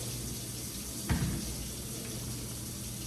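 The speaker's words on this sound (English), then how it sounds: "you want to immediately add cold water to them" Cold tap water runs steadily into a pot of boiled noodles in a home kitchen, a constant faint hiss with a brief splash or clunk near the start.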